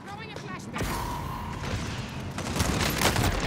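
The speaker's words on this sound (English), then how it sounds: "Throwing a flashbang." Flashbang grenade going off in Call of Duty: a sharp blast followed by a dense, roaring burst of noise and ringing that fills the clip, with gunfire-like crackle underneath.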